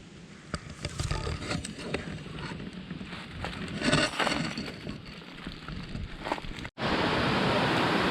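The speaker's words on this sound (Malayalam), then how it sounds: "ഇവിടെ ഒരു അരുവിയുണ്ട്" Steady rushing water of a forest stream with broadband splashing noise, loud and continuous, with a brief dropout near the end before the flow resumes.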